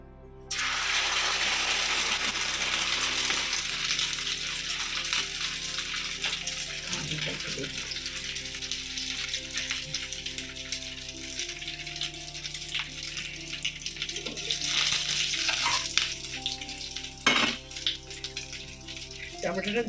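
Eggs frying with chili in a pan give a loud, steady hiss that runs nearly the whole time, broken by a few sharp clinks and taps near the end.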